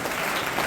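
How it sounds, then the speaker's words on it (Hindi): Audience applauding at a school meditation program, a steady dense wash of clapping from many hands filling the short moment, close and fairly loud with no talk over it. "ताली बजाइए।"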